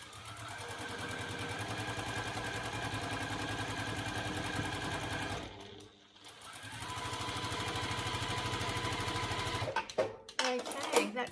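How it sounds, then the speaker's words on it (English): A domestic sewing machine stitches bias-cut quilt pieces at a slow, steady pace, its motor whirring continuously and close, pausing briefly midway before resuming, with a voice speaking over the stitching near the end. "I am stitching down quite slowly, just so that they don't stretch too much"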